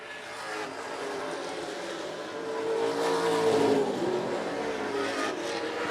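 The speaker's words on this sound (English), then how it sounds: "Kevin Douglas overpowers the 41 and takes the lead as they're about to complete lap 14" Pro stock race cars roar around an oval track mid-race, a steady, loud blended engine drone that swells slightly as the pack passes closer, with no talking.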